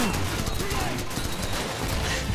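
Gunfire in Call of Duty 4: Modern Warfare, a dense continuous fusillade of rapid shots and blasts filling the short stretch, loud and close, with a voice talking over it.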